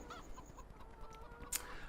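Chickens cluck faintly in the coop area of Farming Simulator 17, a few soft, scattered calls over a steady low game ambience with no talking.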